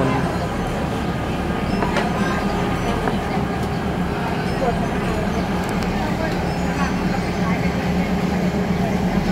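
Train sounds at Khlong 19 railway junction in Thailand, a large station where cars are being shunted: a steady, loud rail rumble runs throughout with faint clanks, and voices can be heard now and then.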